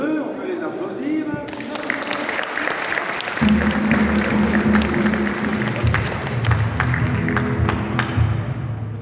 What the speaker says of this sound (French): vous êtes nombreux, on peut les applaudir